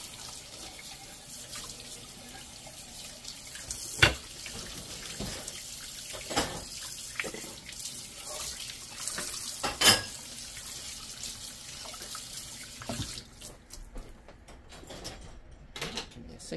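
Dishes rinsed under a running kitchen tap, a steady splashing water stream with scattered clinks and knocks of dishware in the sink, close and continuous, with no one talking.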